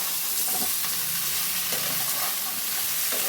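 Potatoes go into a rohu fish curry frying in a pan, a loud continuous sizzle and hiss with soft stirring scrapes beneath.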